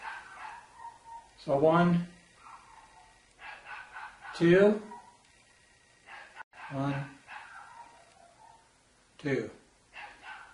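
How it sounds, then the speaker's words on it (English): Several dogs bark in loud bursts, about four in all, spaced a couple of seconds apart, each cutting over a person counting aloud in a kitchen. "Sorry about the dogs"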